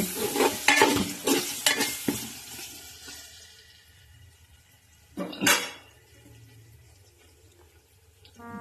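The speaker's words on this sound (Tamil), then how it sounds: "லைட்டாக கொஞ்சமாக வதங்கினா போதும் தக்காளி" Three large tomatoes being sautéed in a pan for Chettinad pepper chicken, with a burst of spoon stirring and clanking against metal at the start, a quieter stretch of soft frying, then another sharp scrape midway.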